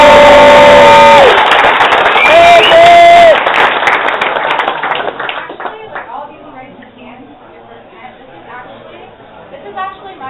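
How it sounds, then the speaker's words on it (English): A crowd at a social event claps and cheers for a woman introduced to them, with loud applause and chatter rising at first, then thinning into scattered claps and murmuring voices. "so give her a round of applause."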